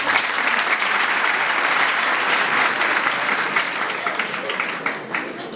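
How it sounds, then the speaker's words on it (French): Dense, steady applause from a conference audience at a university and cyber-education panel fills the room throughout, fading slightly toward the end. "Je peux l'applaudir"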